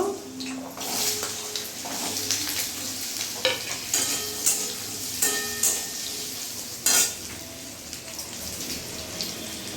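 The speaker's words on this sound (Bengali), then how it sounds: "তেলটা গরম হয়ে গেছে এবার আমি আলুগুলো ভেজে নেব" Potatoes frying in hot oil in a home kitchen as part of a fig curry preparation, a steady loud sizzle with repeated clatters and scraping bursts from stirring, no voices.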